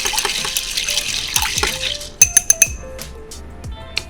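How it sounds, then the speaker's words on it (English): Ice in a glass rattles and clinks as a Buffalo Trace bourbon cocktail is stirred vigorously, with quick bright knocks that cluster in a burst of sharp clinks midway, then settle into a few scattered taps. "So I'm going to stir it very vigorously."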